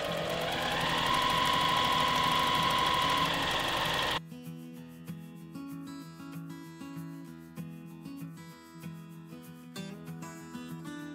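A sewing machine free-motion quilting a fabric bucket bag, with a steady loud motor hum that stops abruptly after about four seconds and is followed by background music.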